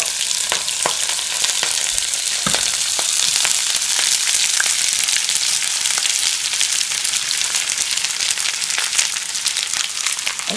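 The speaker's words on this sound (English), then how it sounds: "Now that my oil has heated up, I'm going to add in my onion and my green onion with my garlic." Onion, green onion and garlic sizzle and crackle loudly in hot oil, a dense continuous frying hiss with scattered sharp pops, close up and with no talking.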